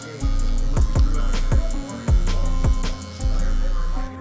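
An electric hair clipper fitted with a 1.5 guard cutting hair during a taper fade, a steady buzzing hum with repeated cutting strokes at an even pace, close and loud, without speech.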